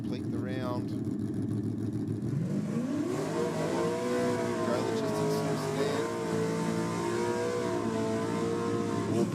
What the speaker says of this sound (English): Big burnout here by Bonello.